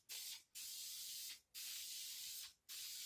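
Polyurethane finish is sprayed from a can inside a bathroom shower niche, in three long hissing bursts separated by brief pauses, close and loud.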